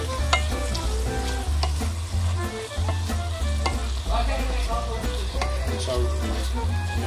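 Bacon frying in a pan with garlic for pasta carbonara, a dense, continuous close-up sizzle with scattered stirring scrapes and pops throughout.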